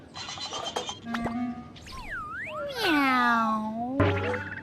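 A voice imitates a cat's meow with a rising and falling wavering tone, alongside a few other brief cartoonish sound effects.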